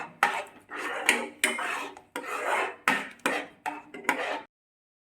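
Egg bhurji being stirred in a pan over medium flame, a spatula scraping against the metal in about eight rhythmic rasping strokes, close and fairly loud, ending in silence, no voices.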